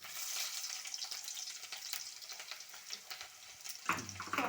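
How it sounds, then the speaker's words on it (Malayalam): Shallots sautéing in oil after mustard and fenugreek seeds have popped, a soft continuous hiss and sizzle with light stirring scrapes, and a sharper clatter near the end. "ചുവന്നുള്ളി വഴറ്റുക."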